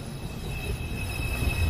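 A New York City subway train arrives at the 215th Street station, its steady rumble and rolling wheels filling the platform with a faint high whine above.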